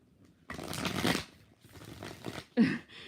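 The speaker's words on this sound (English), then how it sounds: "2 more shuffles." Tarot cards are riffled and shuffled in several quick bursts of papery flutter, close up, with short pauses between.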